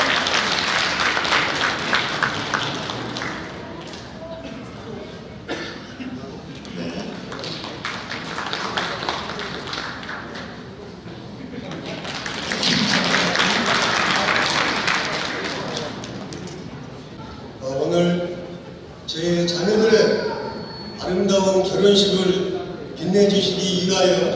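Wedding guests at a musical wedding in a Suncheon convention hall applaud to welcome the bride's father, long, full clapping that swells and fades before music and voices take over.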